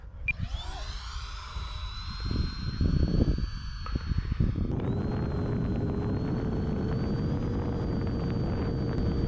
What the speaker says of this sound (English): So that was a low speed pass.